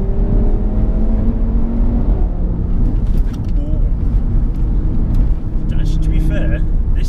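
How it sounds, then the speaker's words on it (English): A used Audi RS3 with the stock Audi Sport exhaust drones loud and close, its deep engine note held steady with a faint whir and no sharp revs. "Stock Audi Sports exhaust."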